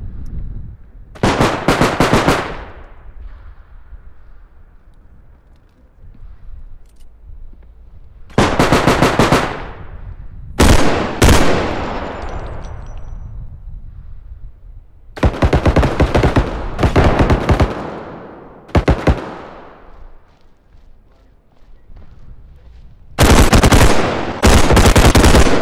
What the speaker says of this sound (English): That gun is obnoxiously loud. Like one of the submachine guns.